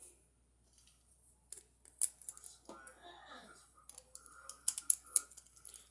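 A plastic Beyblade Burst QuadS armor part snapping into place on an Ambush Bazalisk top, giving a few sharp clicks and small plastic rattles, close and quiet, with a voice briefly heard.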